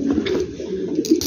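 A pair of five-month-old King Tiger or Mondain pigeons coo close up: soft, low, throaty rolling coos repeating over the whole moment, with no voices.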